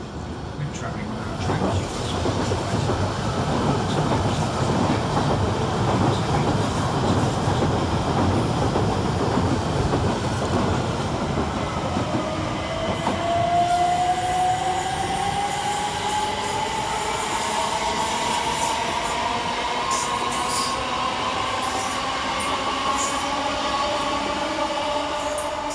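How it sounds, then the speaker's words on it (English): Two coupled Class 357 C2C electric trains, seven coaches, pull out of Stratford station on a Shoeburyness to London Liverpool Street service, a loud continuous rumble with a rising motor whine and wheel squeal building through the departure. "Next trains out are 357208 and 357328, departing with the 1956 C2C service from Shoebury-Ness to London Liverpool Street."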